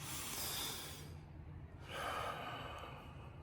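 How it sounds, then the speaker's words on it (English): Up close, a slow deep breath draws in and then releases as two long airy swells with a short pause between, faint and with no talking. "I invite you to take a breath with me"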